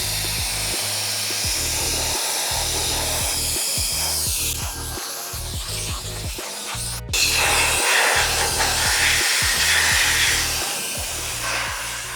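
Wolfbox MegaFlow cordless air duster blowing dust out of a computer: loud, close, steady whooshing airflow with a pulsing undertone, growing stronger partway through.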